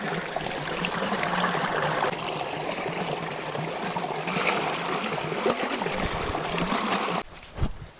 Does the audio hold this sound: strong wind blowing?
no